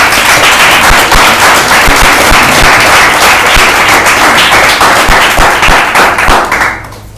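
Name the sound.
congregation applause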